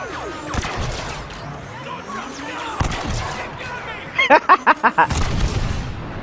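Blaster fire while shooting stormtroopers in Star Wars Battlefront II, with several sharp bursts scattered across the clip and a rapid run of shots near the end, set against busy battle noise.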